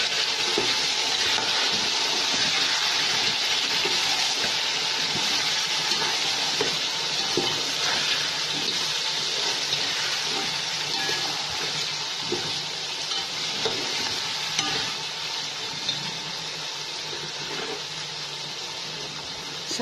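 Potatoes frying with lightly browned onions in a pan, a continuous hissing sizzle with occasional soft stirring scrapes, close and steady, easing slightly toward the end.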